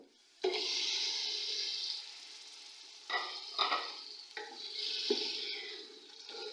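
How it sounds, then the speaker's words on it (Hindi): Chicken pieces dropped into a little hot oil in a pan for restaurant-style chicken corn soup, bursting into a loud steady sizzle with a few clattering stirs and pops, close up and with no talking. "आँच को मैं तेज़ कर दूंगी और अच्छी तरह मैं इसको फ्राई करूंगी।"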